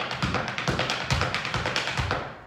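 Rapid, even clatter of tap shoes striking a hard floor, dozens of crisp taps in a quick steady rhythm, close and moderately loud, no voices.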